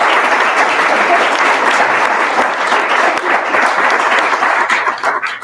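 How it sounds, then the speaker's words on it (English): A live audience at a short-story literary event applauds the authors, steady dense clapping filling the room for several seconds before thinning slightly at the end. "we'll end with a round of applause for these wonderful authors that we've put out today"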